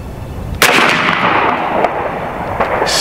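An AEA Zeus .72 caliber air rifle fires a single loud, sharp shot outdoors at a 50-yard range, followed by a broad, lingering blast decay with faint later impacts.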